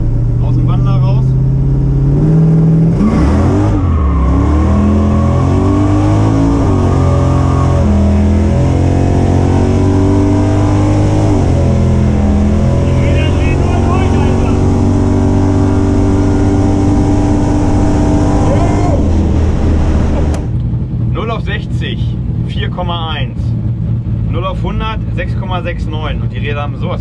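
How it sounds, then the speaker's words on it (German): A 1960 Ford NASCAR race car accelerates hard with its wheels spinning, a loud close engine roar climbing and falling in pitch and then cutting off, after which someone talks briefly. "Und die Räder haben sowas von durchgedreht."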